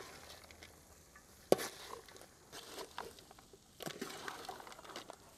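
Fried fish being stirred into spicy Kerala-style pickle masala in a pan, giving a soft sizzle with scraping and stirring strokes, one sharp clink near the start and bursts of stirring later, close and fairly quiet with no talking.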